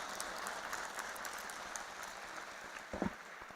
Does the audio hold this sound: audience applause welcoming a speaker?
yes